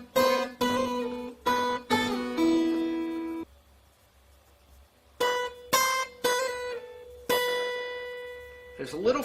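Single electric or acoustic guitar plays a lick, ringing open B under fretted notes, in clear plucked phrases with sustained tails and a short pause midway.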